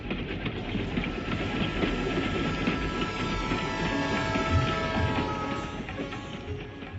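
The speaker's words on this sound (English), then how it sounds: "આ ટ્રેન તો પાછી ચાલી" A train rolls steadily along the rails, its wheels clattering and the cars rumbling continuously at moderate loudness throughout, with no voices.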